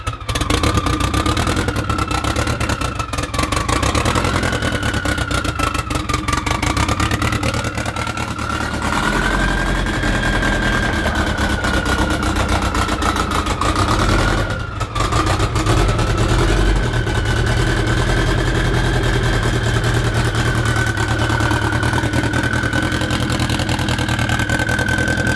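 Mitsubishi Lancer Evolution drift car with its engine running, a loud, steady near drone with a sustained tone that wavers slightly in pitch and no talking over it.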